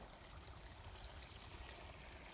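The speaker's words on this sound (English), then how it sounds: "Yeah, stream's flowing good." A stream flows near a waterfall in rural pasture land, making a faint, steady rushing and trickling of water with no voices.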